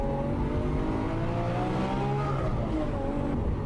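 A recorded car revs hard, the engine note climbing and falling in sweeping pitch changes over a dense low rumble, loud and continuous with no talk.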